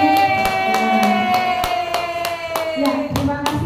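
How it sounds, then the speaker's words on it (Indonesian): Scattered, evenly paced hand claps from a small audience at a school teachers' session, sounding as sharp, moderately loud strikes over a steady sustained tone. "tepuk tangan dong buat"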